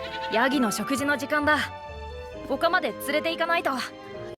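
Goat bleating close by in two bursts of wavering, quivering calls separated by a brief pause.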